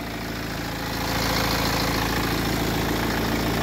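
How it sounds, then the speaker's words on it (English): Steady close idle from the 2-litre single-turbocharged N47 diesel in a 2014 BMW X3 xDrive 20d manual with a timing chain, a continuous low diesel rumble and rhythmic clatter that swells slightly partway through, with no voices. "the twin power turbo, which is a 2-litre single turbo charged diesel engine"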